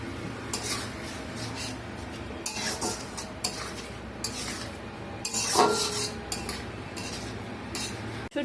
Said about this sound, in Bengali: এইটা সহকারে আমি মশলাটাকে কষিয়ে নিব।